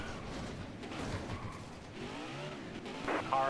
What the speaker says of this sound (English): Ah, yes, the sound of the race car.